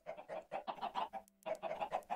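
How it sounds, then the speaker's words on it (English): Chickens clucking in a Minecraft-style block-building game, a run of short rhythmic clucks close and clear with one brief pause, no talk over them. "Chickens."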